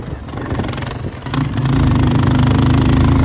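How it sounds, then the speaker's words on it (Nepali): A 220 motorcycle engine idles roughly, then revs up into a loud, steady roar up close. "बाइक चाहिँ डह्रो पड्किरहेको केटा हो 220 हो"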